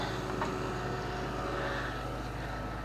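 A tractor engine runs nearby with a steady low droning hum that stays even and unbroken throughout, with no talking over it.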